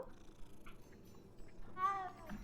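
A cat in the Hogwarts Legacy video game gives a short, faint meow near the end, over low background ambience.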